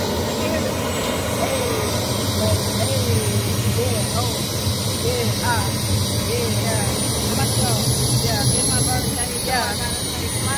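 A helicopter lifting off on a tourist ride in Brazil, with a loud, steady engine and rotor roar filling the cabin throughout and passengers chatting over it.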